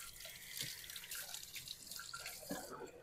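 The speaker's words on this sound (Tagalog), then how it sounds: "simulan muna natin sa paghuhugas ng mga hugasin natin dito sa lababo" Dishes are washed at a kitchen sink, soft running water and faint clinks and drips, quiet and steady throughout.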